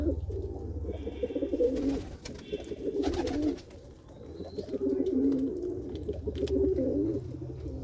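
Several large fancy pigeons, resting after their evening feed, coo in low, rolling repeated phrases near the listener, with a few short bursts of wing flapping and rustling between the calls.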